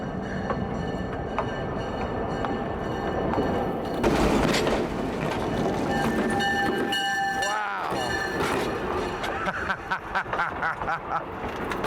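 A train rumbles along the tracks with steady clatter and metallic squeals, a horn sounding partway through, while people talk faintly nearby.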